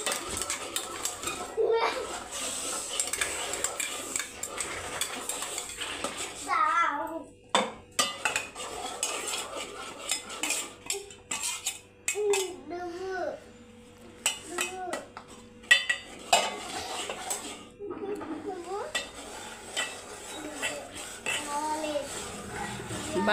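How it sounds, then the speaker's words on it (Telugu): A spoon stirs a sago mixture with cumin and chilli in a pot, making repeated scraping and clinking against the metal throughout, with a voice and other speech heard faintly in the background. "జీలకర్ర ఇంకా మిర్చిది అయితే వేసేసి ఒకసారి అయితే తిప్పాలన్నమాట."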